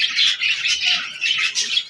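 Doves bathing in a shallow bowl of water make repeated bursts of fluttering, splashy hiss in an uneven rhythm, close and moderately loud, with no voices.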